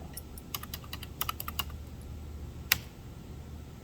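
Keys clatter on a computer keyboard as a student ID is entered for library book checkout, a quick run of close taps followed by a brief pause and one sharper keystroke.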